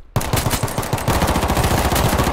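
M9A3 pistol gunshots in the video game H1Z1 fire in a fast, loud, rhythmic string of close shots after a brief silence, continuing to the end with no talking.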